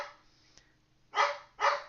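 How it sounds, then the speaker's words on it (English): A female dog named Shyla barking at a weekly visitor indoors: two sharp, fairly loud barks in quick succession after a quieter stretch, no talk. "This is the first time she has ever barked at him."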